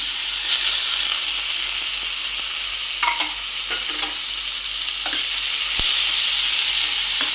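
Grated radish with turmeric fries in a hot pan for radish perugu pachadi, a loud, steady, close sizzle with a few faint clinks of stirring now and then, no voices.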